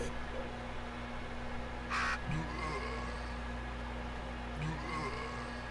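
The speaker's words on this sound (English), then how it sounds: "That's the crow." Crow cawing sound effect in the video game Dreams: two short harsh caws a few seconds apart over a low steady hum, fairly faint in the mix.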